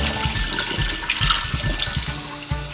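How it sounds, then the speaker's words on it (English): Cold tap water runs steadily from a faucet over a synthetic wig being rinsed of soap, a close, continuous splashing gush with small uneven spatters. "So here I'm just rinsing it in cold water and just getting all of the soap out"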